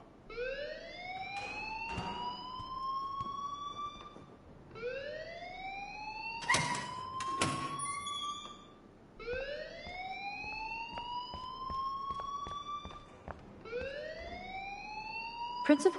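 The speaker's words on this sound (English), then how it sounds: "please turn off that alarm since that's your job" Rising, repeating electronic alarm tone in a school setting from a video game, sweeping upward in cycles about every four seconds, loud and continuous, with game dialogue spoken over it.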